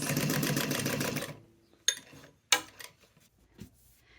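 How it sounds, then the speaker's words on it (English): A sewing machine stitches around the interior seam of a tote bag at a 3/8 inch seam allowance, running steadily and close for about a second before stopping, followed by a few sharp clicks and light handling noises. "we have just finished sewing all the way around the interior."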